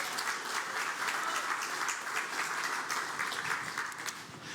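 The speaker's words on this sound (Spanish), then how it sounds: "Dele un aplauso al Señor, hermano." A church congregation applauds together in a sustained wash of clapping that swells slightly and then tapers off, at moderate distance and fairly soft.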